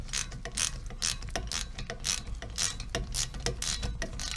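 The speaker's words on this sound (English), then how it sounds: "get a wrench and hold on to it" A wrench works on a rear disc brake caliper bolt, giving a steady run of close, loud ratcheting clicks in quick bursts of several clicks each, with no talking.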